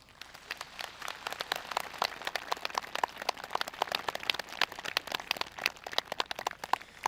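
An audience applauds at a Korean Zen meditation event for DMZ world peace, with a dense, steady patter of many hands clapping throughout, moderately loud and fairly close.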